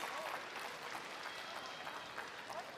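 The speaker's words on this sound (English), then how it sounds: "And the crowd really appreciates it." Spectators at a women's world curling championship match between Turkey and Switzerland applaud a curling shot. The clapping is steady and diffuse and sounds faint and distant, with a commentator talking over it.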